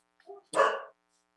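Pet dogs barking in a home during a remote city council meeting: a short yip followed by one loud, broad bark, close by and alone, with no talk over it.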